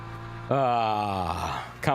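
Porsche and McLaren race car engines in the sim racing game Le Mans Ultimate, a loud harmonic whine that rises sharply, holds and sweeps down in pitch before a second burst, close and alone with no talking.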